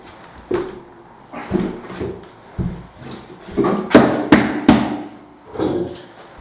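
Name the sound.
hammer banging on wood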